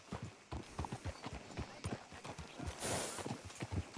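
Horse hooves clip-clop in a steady walking rhythm, close and fairly loud, in the Red Dead Redemption 2 video game, with faint ambient noise underneath.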